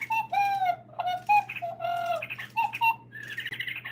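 An owl gives a few short hooting and chirping calls in reply, close and clear, in a quiet indoor space with a steady low hum underneath.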